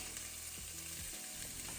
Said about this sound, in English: put on that little salt and that lemon pepper, and we're just going to saute that for about 3 to 4 minutes